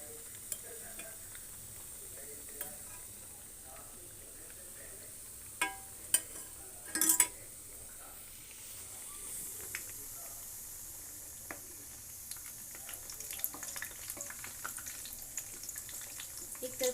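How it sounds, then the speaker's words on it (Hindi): Wheat-flour sweets fry in hot oil, a soft continuous sizzle with occasional stirring clinks and a brief louder scrape partway through, fairly faint throughout. "अब फ्राई कर लेते हैं। अच्छा फ्राई गोल्डन होने तक इसको फ्राई करेंगे अच्छी तरीके से।"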